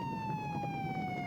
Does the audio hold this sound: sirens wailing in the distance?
yes